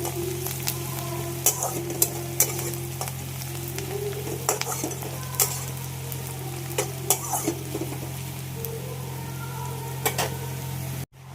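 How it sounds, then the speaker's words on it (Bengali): Chicken sautéing with onions in a pan, a loud continuous sizzle with scattered sharp pops and crackles and occasional stirring scrapes, plus a steady low hum underneath. "মাংস কষার যে আওয়াজটা ক্যাপচার হয় ক্যামেরাতে, অসাধারণ"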